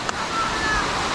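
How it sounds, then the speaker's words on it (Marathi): Water rushing and gurgling at a dam on a picnic outing near Mumbai, a steady broadband wash filling the whole short stretch, close and fairly loud with no clear voices. "पाणी बघा मस्त खळखळते एकदम"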